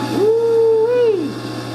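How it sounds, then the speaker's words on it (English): The motor of a 1970s condo dishwasher, running dry, spins up into a rising whine, holds a steady tone for about a second, then winds down, over a constant low hum. "It's a dry motor, I hear."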